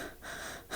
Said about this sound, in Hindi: वो अपने सांसों की आवाज खुद सुन सकता है।